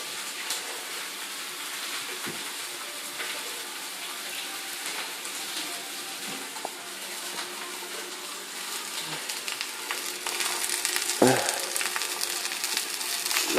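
Salmon frying in oil in a pan gives a steady, close sizzle that runs the whole time, growing slightly louder toward the end, with a brief clank of the pan partway through.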